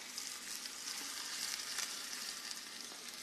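Chopped onion and garlic sizzle in hot oil in a pan, producing a steady, faint crackling hiss with no voices over it.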